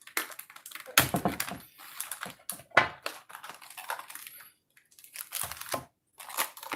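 Plastic blister packaging around a WWE Ultimate Warrior action figure being cut and crunched open, a close series of loud, irregular crackling snips and crinkles with brief pauses between bursts.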